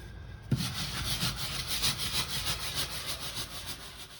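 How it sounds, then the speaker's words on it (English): A brush scrubs a wooden teak boat deck in steady circular strokes, a rhythmic, close, rasping sweep that repeats about twice per second without pause. "circular action is getting the dirt out, not scrubbing the wood away"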